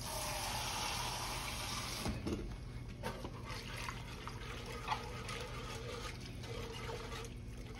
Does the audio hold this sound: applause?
no